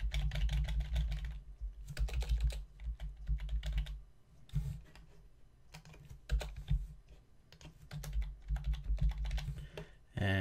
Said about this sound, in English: Throw in the credit card information.